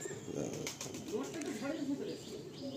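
Pigeons held in the hands give soft, low burbling coos close by, repeated in wavering phrases beneath someone talking.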